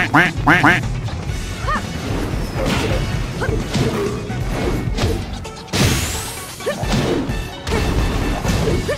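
A cartoonish duck quack sound effect from the fighting game Tekken 7 sounds out amid loud game audio, with crashing hits, whooshes and thuds around it.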